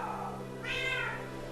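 A single drawn-out meow from Kongi, a cat, rising then fading, heard close and clear over a low steady background hum with no one talking.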